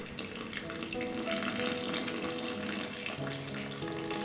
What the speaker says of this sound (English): Then I'm adding in water,